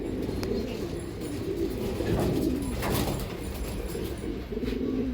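Pigeons coo repeatedly in low throaty bursts, several birds close by with overlapping calls and a faint flutter, no voices.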